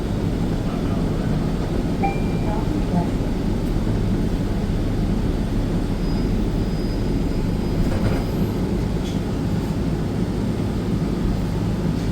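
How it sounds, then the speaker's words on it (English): A steady, loud low-pitched roar fills the interior of a new SEPTA XDE40 bus, an unbroken mechanical drone of its air conditioning, louder than the engine, with faint indistinct sounds over it. "The AC on this bus is so loud I can barely hear the engine."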